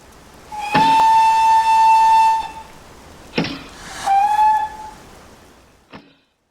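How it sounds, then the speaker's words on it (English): An LBSCR D1 class steam locomotive whistle in Train Simulator gives a long steady blast, then a second shorter blast, followed by a brief sharp pop, loud and close. "One thing I noticed was the D1's whistle sounding exactly the same as that which is used on the L"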